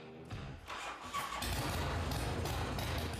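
A Harley-Davidson FXR motorcycle engine with a rubber-mounted V-twin cranks briefly and then catches, settling into a loud, steady, rumbling idle close by.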